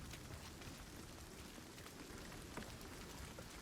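Steady rain falls softly in the video game Hunt: Showdown, a dense even hiss of drops with no voices.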